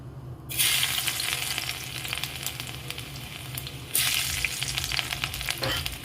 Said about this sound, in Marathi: कढई ठेवून कढईमध्ये मस्त लसूण टाकून घ्यायचं आहे